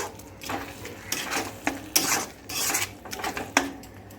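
A spoon scrapes and clinks in a pan as ground cashew paste is stirred into masala, with short bursts of metallic scraping separated by brief pauses, close and moderately loud.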